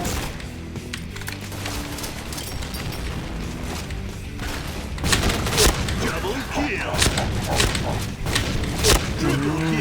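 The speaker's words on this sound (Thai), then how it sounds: "นี่ได้ยิงโดนทุกนัดเนี่ย เป็นอะไรที่สำคัญมากกว่าการสับไวนะครับ" Gunfire in the first-person shooter video game Point Blank crackles in rapid bursts and volleys alongside busy game effects, growing louder and denser in the second half.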